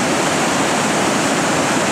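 A waterfall on a small river swollen by six inches of rain roars loudly and continuously, a dense, even rush of water with no other sounds.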